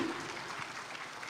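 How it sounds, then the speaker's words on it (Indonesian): Audience clapping at a city government year-end reflection event in Makassar, a brief soft patch of applause, moderately distant and even. "Boleh tepuk tangan ya Bapak Ibu hadirin"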